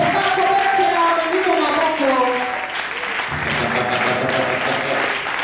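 Church congregation applauding and cheering during a sermon on the Holy Spirit, a sustained wash of clapping with voices calling out, loud and continuous, while someone talks over it.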